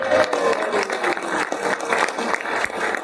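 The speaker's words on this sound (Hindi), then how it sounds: "जोरदार तालियां बजाइए एनर्जी के लिए" An audience at a talk on sales objection handling bursts into loud, sustained applause, with dense clapping continuing throughout and a faint crowd murmur.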